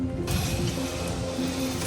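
A ratchet works loose the U-bolt nuts on a Toyota Tacoma during a bump stop install, a close mechanical clicking and grinding burst that begins abruptly and carries on steadily.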